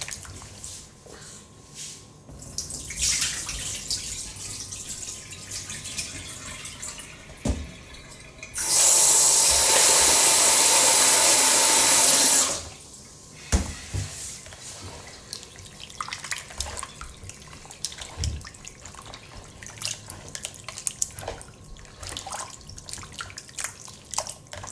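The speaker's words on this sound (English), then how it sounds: "I washed it about 4 times in cold water and I'm just draining it now." Beef being rinsed in cold water and drained: a loud, steady rush of tap water into a sink for about four seconds, framed by quieter splashing and handling sounds in a home kitchen.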